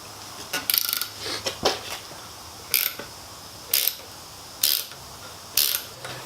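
A nut being loosened with an Allen key and a shifter spanner: a handful of short, separate metallic clicks and ratchet-like ticks spaced unevenly across several seconds, close by, with no talking.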